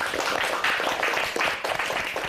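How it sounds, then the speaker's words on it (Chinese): A studio audience breaks into warm applause during a Chinese legal-career reality show, dense continuous clapping filling the whole stretch at a fairly loud level. "那让我们先热烈的掌声祝贺他们一下"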